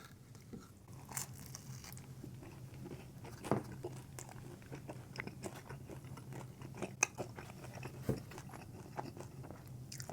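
Quiet, close chewing and biting of Papa Johns NY style pizza with spicy garlic sauce, soft crunchy bites and mouth sounds scattered irregularly over a low room hum, with no talking.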